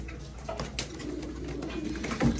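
Soft pigeon coos murmur close by amid faint rustling at a pigeon breeder's loft, a few low throaty calls rising and falling over quiet background.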